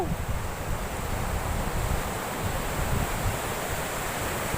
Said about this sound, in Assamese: সাগৰৰ ঢৌ